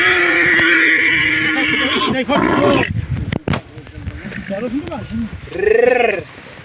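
Loud stallion and mares neighing and whinnying close by during breeding, with several wavering calls, snorts and rustling, ending in a strong shrill whinny.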